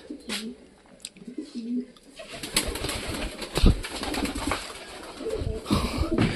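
Pet pigeons coo at close range in a home loft, with soft repeated throaty calls and some rustling and brief bird chatter throughout.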